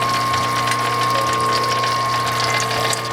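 A Wadkin RM power feed mechanism runs steadily at close range. It makes a loud, continuous mechanical whir with ratcheting gear chatter and an oil-bath slosh, with no talk over it.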